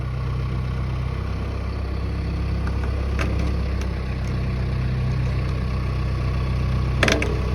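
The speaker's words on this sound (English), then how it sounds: "We tie it onto our tractor." A tractor engine runs at a low, steady rumble while slowly pulling a strand of fence wire tight, with a couple of faint clicks and no voices.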